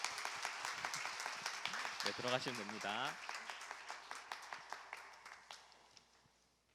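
Church congregation applauding at a Sunday chapel service to encourage newly appointed parish teachers, with dense steady clapping running throughout, a brief spoken line partway through, then the applause thinning into scattered claps as it fades.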